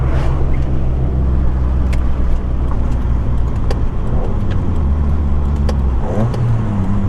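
A car on the Mount Panorama hillclimb course at Bathurst, with a faulty clutch, gives a loud, steady engine drone close to the microphone, dipping near the end as the revs change.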